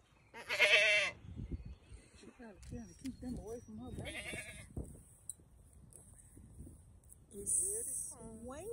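A goat on a country farm bleats loudly and close by twice, once near the start and again near the end, while people talk and call out between the cries.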